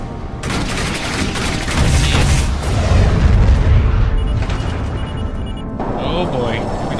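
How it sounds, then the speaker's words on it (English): Point-defense cannon volley in The Expanse space game, a dense roaring barrage of rapid gunfire and booms that swells loud and steady for several seconds, with voices speaking faintly beneath. "On my word, loose a PDC volley, then turn and burn."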